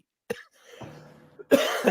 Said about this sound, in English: That was not the result of a non-communicable disease. That was just a cough.